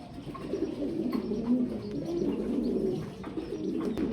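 Several pigeons, including grizzle racers, coo continuously at a pigeon farm, low warbling calls overlapping close by, with a few faint clicks in the background.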